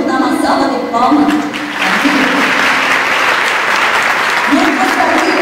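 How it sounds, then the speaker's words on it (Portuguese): A church congregation applauding after the Bible is presented during a service, a loud sustained burst of clapping that fills the room, with faint voices and background tones beneath. "Vamos dar uma salva de palmas."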